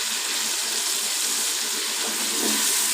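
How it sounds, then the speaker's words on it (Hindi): Water is poured into frying chicken curry in a hot pan, giving a steady, loud rushing hiss for the whole span with no voices. "तो इसमें मैं थोड़ा सा पानी डालूँगी"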